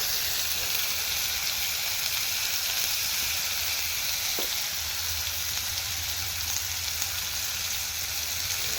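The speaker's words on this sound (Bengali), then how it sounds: "তেল গরম হয়ে গেছে এবার কেটে রাখা আলুগুলো ভেজে নেব" Cut potatoes seasoned with turmeric and salt fry in hot oil, giving a steady, close, even sizzle that continues without a break, with no talking over it.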